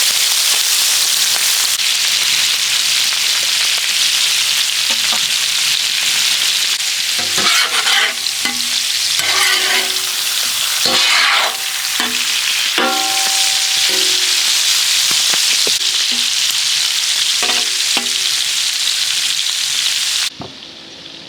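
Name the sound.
heart pieces frying in pan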